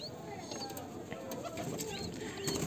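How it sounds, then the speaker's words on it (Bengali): A breeding pair of pigeons, male and female with a young one nearby, coos softly and steadily against a faint background hum, with no voices. "এই হলো পায়রার পেয়ারটি"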